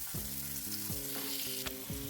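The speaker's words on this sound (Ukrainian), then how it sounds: "і нехай вона смажиться." Onions sizzle steadily in a hot pan, a constant frying hiss with low background hum and a few faint clicks.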